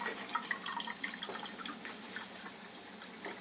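Water streams steadily from an Enagic K8 Kangen water ionizer set to pH 9.5 while it is being installed, a continuous close-up hiss and splash with no talking.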